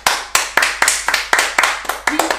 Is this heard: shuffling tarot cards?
no